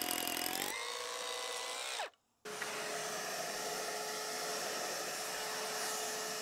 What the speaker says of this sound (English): So I'm just going to drill out some of that concrete